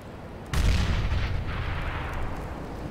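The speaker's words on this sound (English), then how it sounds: "I'm throwing a grenade." A grenade exploding in Counter-Strike, one sudden deep boom with a rumbling tail that fades slowly, with no voices.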